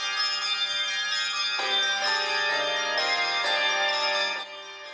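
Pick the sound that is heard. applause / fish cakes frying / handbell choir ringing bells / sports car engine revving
handbell choir ringing bells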